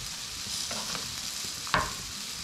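Pork ribs sizzle on a hot grill, a steady frying hiss with soft scraping as the meat is turned, and one sharp clack of a utensil near the end.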